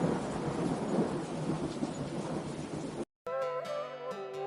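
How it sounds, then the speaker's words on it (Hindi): Heavy rain and rolling thunder roar together loudly, then cut abruptly to a different tonal sound after a short gap. "रात में अचानक तेज आंधी, बारिश और बिजली गिरना शुरू हो जाता है।"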